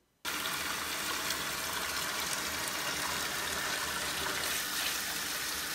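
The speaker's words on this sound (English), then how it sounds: "water pressure is high" Water gushes steadily and forcefully at high pressure from a faucet into a jetted tub, a constant loud rushing that starts abruptly and continues without pause.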